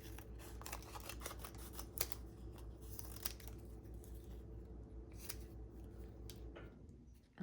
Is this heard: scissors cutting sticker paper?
yes